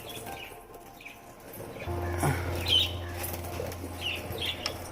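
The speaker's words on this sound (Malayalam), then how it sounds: "ബേഡ്സ് കുറച്ച് പാനിക് ആയിട്ടുണ്ട്." Pet birds in a village setting flap their wings in short, rustling bursts and give faint scattered chirps, with a low steady hum running through the middle part.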